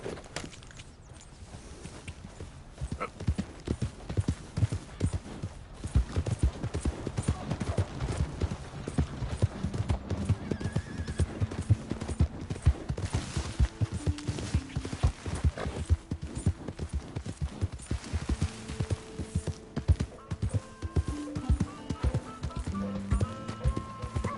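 Steady rhythmic clip-clop of horse hooves trotting along for a long stretch in the video game Red Dead Redemption 2, with faint tonal music or voices in the background.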